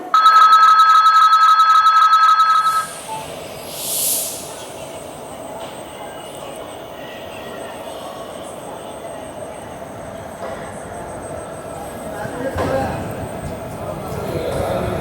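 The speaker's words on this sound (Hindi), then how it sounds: "मराठवाड़ा एक्सप्रेस डिपार्ट कर चुकी है धर्माबाद रेलवे स्टेशन से" The Marathwada Express departs Dharmabad railway station. A steady high electronic tone sounds for the first few seconds, then gives way to a low, continuous rolling rumble of the moving train with occasional faint clanks.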